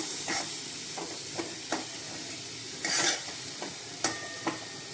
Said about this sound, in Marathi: आता आपण त्याच्यामध्ये कोथिंबीर घालूया मिक्स करून घेऊया